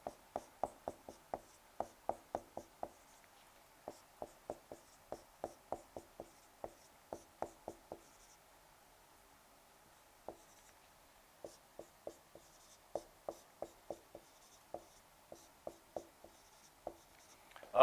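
Chalk taps and scrapes on a board as equations are written out, a steady run of sharp, close strokes in quick clusters broken by short pauses, with no talk over it.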